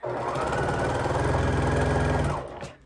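Sewing machine stitching 4.5-inch quilt squares, a steady, fast mechanical whir and rapid needle clatter running for a couple of seconds before winding down.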